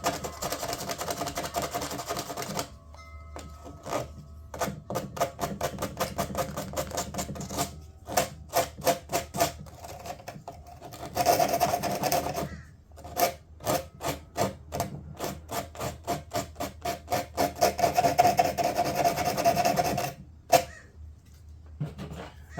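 Sandpaper is worked by hand across a fiberglass door panel in steady rhythmic back-and-forth strokes, a close, dry scratching rasp that pauses briefly and then resumes at a quicker pace.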